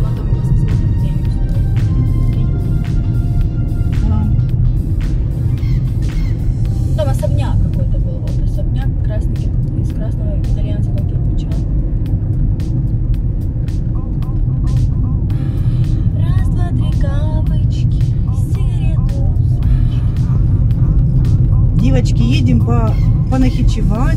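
A car drives through city streets in Rostov-on-Don, heard from inside, with a constant low road rumble and engine hum beneath near continuous talking and scattered clicks.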